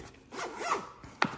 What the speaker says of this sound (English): Zips right open and boom